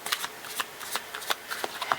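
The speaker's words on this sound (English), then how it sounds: "And then let's get 8 tarot cards." Tarot cards are drawn from a deck, giving soft, quick papery flicks and slides about every quarter second. The sound is close and quiet, with no talking.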